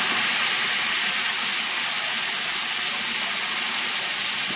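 Chicken pieces dropped into a hot pan for a milk chicken curry hiss and sizzle loudly and continuously, a close, steady frying crackle with no voices.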